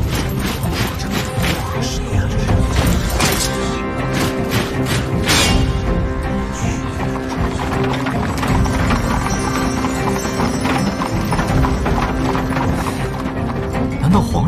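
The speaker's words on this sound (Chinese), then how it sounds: "是加满皇室的马车" A royal horse-drawn carriage arrives in an animated fantasy series, with steady hoof clip-clops and occasional whinnies running throughout under dense music, crowd noise and voices.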